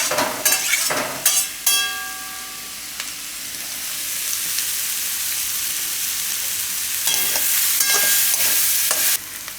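Shredded cabbage stirred and cooked in a pan, with loud close sizzling and scraping strokes, a few sharp clinks of the spoon against the metal, and steady frying between the stirs.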